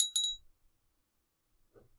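A crystal glass bell with gold metallic trim rings out with two bright clinks close together at the start, then fades into near silence before a faint rustle.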